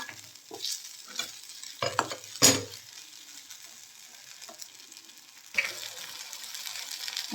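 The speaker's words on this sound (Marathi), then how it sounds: "चांगलं परतत राहायचं, म्हणजे याला लालसर कलर येईल." A spoon scrapes and stirs in a pan over a steady sizzle of corn poha frying, with a few louder clatters and a brighter burst of frying near the end.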